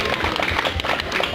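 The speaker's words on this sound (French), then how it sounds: "On applaudit tous" An audience at a Lolita fashion show runway event claps together in a brief, busy burst of many hands, fairly close and loud, with no voices heard over it.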